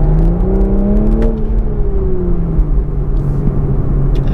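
A 2023 Toyota GR Supra 3.0 with a manual gearbox revs and pulls away, its engine note sweeping up then settling into a steady, close, loud drone with a rumbling low end.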